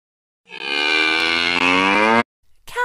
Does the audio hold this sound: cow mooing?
yes